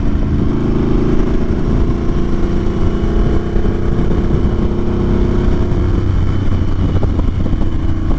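A Harley-Davidson Sportster S motorcycle accelerates with a loud, continuous low engine roar heard close up, mixed with rushing wind.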